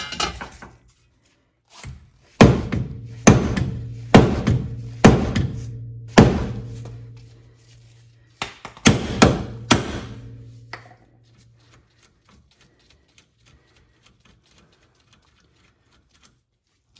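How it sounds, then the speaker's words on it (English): A sledgehammer strikes a car wheel hub, an NSX, in a series of loud, sharp metallic impacts. Two separate bursts of several blows each are followed by quiet. "Sledgehammer works a lot better."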